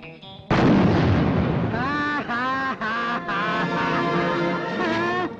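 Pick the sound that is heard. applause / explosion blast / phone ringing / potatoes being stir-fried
explosion blast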